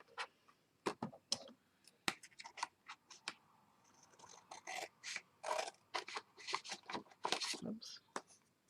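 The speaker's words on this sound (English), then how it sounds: "So I'll quickly cut this with my scissors so I know it fits." Scissors snip through a brown paper shopping bag in a series of sharp, irregular cuts and crisp paper crackles, close and fairly loud, with a voice talking briefly between the snips.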